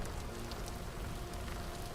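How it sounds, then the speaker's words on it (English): Rain falls steadily in the video game Pennycress, a constant dense hiss of drops spread evenly through the short moment with no voices. "it's been raining in different locations, and we've been flying through the rainy areas"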